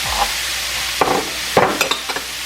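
Mushrooms and other vegetables for spaghetti are stirred and scraped in a frying pan, with a few distinct sweeps over a soft, steady sizzle, close and fairly quiet, with no talk.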